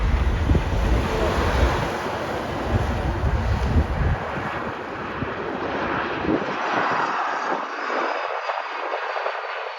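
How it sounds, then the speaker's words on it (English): A Delta Airbus A220-300 airliner lands at O'Hare, its jet engine roar loud and broad at first and fading toward the end, under steady wind noise outdoors. "That is an Airbus A220-300 Delta."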